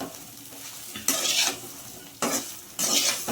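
Small bitter gourd stir-fried with sugar in a pan, a steady sizzle broken by three loud bursts of spoon scraping and stirring against the metal, close and without voices.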